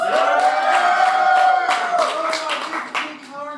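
Live audience at a comedy stage show claps and cheers to vote for a contestant, with a loud voice shouting over the clapping and a steady crowd roar throughout.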